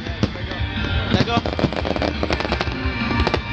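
Dense crackling and popping of a fireworks finale at Strathclyde Park, rapid bursts and bangs layered continuously at fairly close range, with people talking over it.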